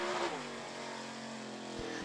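Race cars roar past on the I-75 Raceway oval during an evening race, a loud continuous engine drone with a falling pitch as a car passes close, then a steady sustained hum from cars further around the track.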